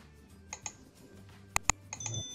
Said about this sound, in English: Cut them into small pieces like this.